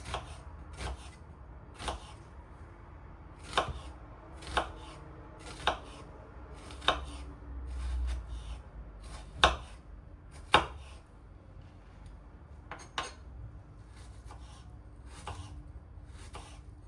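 A knife taps repeatedly on a cutting board, irregular crisp chops spaced through, steady and close with no talking.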